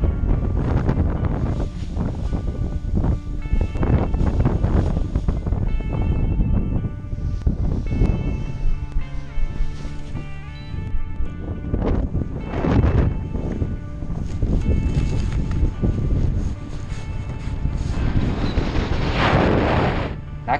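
Strong wind buffets the microphone while paragliding, a loud continuous roar with gusty surges and flapping rushes across the whole stretch.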